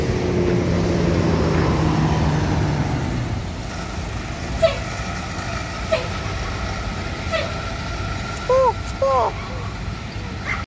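An ALS intercity bus on the Surabaya to Medan route roars past at speed, loud at first and then fading into a lower rumble, with short horn-like tones and people talking over the road noise.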